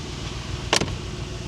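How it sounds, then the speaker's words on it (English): A Mercedes-AMG G63 4x4² G-Wagon door shuts with a single sharp, loud, metallic latching clack, brief and close, against low idling background rumble. "So I want to see if you can close the door first try."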